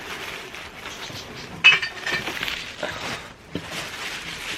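Glass Christmas decorations clink together in a few light, brittle taps and chinks at close range, with soft handling rustle between the contacts.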